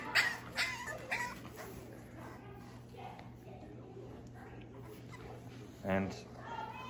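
Seven-week-old French Bulldog puppies whimper and yip in short, faint bursts against a noisy indoor background, with one louder whine near the end.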